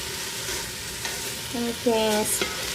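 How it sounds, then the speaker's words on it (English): Vegetables sizzle steadily in a hot Instant Pot with a constant frying hiss, close and fairly loud, broken by a few brief tonal clinks near the end. "You can hear it sizzling"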